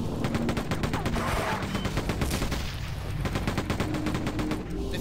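Enemy gunfire in the video game Gene Tech: Before the Storm comes as rapid, loud bursts of automatic fire that rattle on almost without pause throughout.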